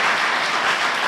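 Applause from a church congregation during a Sunday worship service in Batam, Indonesia, a dense, steady wash of many hands clapping at once, loud and continuous throughout the brief moment with no voices over it.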